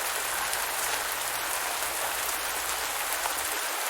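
Steady rain in the Pumpkin Days game, an even, dense patter of drops with no breaks or gusts and a faint low hum beneath it.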